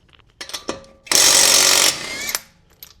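A power tool, likely an impact wrench, removes lug nuts from a 2003–2008 Toyota Corolla, Matrix or Pontiac Vibe. It gives a few short bursts, then one loud, sustained rattling zip of about a second, then a trailing whir and clicks.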